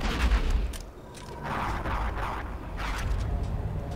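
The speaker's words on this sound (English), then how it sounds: "It's explosive. It's grenade launcher." Grenade launcher shots and explosions in the Star Wars Republic Commando video game, several muffled booms and bursts of gunfire blending into a dense, rumbling barrage over about four seconds.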